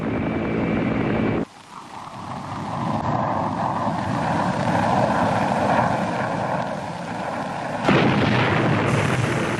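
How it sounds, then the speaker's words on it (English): Fighter bombers and helicopter gunships attack Vietnam War landing zones in Thanh Ninh province, a loud, sustained roar of aircraft engines and rotors with rumbling blasts, swelling after a sudden break and surging again near the end. "Fighter bombers and helicopter gunships hammered the landing zones."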